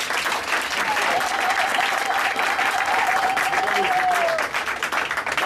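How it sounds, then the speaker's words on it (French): Sustained applause from an audience at a political rally of the Rassemblement, a dense, even clapping that holds steady for several seconds before tapering slightly at the end. "Est-ce qu'on peut l'applaudir?"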